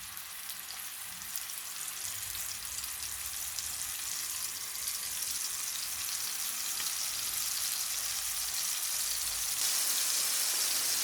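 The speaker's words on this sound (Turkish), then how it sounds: "Hazırladığım küftələri tavanın içərisinə qoyuram. Biraz qızardıram." Köfte meatballs frying in a pan, a steady close sizzle and crackle of hot oil that grows slightly louder over the whole stretch, with no talking.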